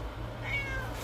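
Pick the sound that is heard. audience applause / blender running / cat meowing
cat meowing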